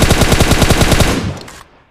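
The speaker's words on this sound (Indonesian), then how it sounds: "Nah, terus kita nembak." Automatic gunfire in the mobile game PUBG Mobile: a loud, rapid burst of about a dozen evenly spaced shots that stops and leaves a short fading echo.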